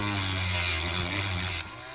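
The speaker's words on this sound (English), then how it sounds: "we want to Dremel it down just a little bit" A Dremel rotary tool grinds down a screw in a Marvel Legends action figure's arm, a loud, steady high-pitched motor whine that runs continuously and then abruptly drops away near the end.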